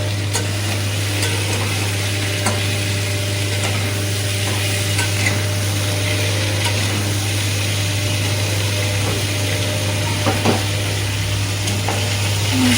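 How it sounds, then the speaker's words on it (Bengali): Fish frying in a covered pan after a sprinkle of salt gives a soft, even sizzle for several seconds, with occasional faint ticks and a steady low hum underneath, and no voices. "মাছগুলো হয়ে গেছে, বেশ ভালো করে ভাজা হয়ে গেছে।"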